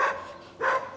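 A dog barks twice, close and fairly loud, with a short pause between the two sharp barks and no talking over them.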